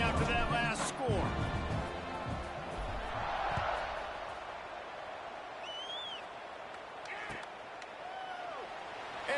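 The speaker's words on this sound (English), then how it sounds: "this crowd is buzzing after that last score" Football stadium crowd buzzing right after a touchdown and extra point, a broad sustained roar across the whole stretch with a few sharp claps and whistles near the start.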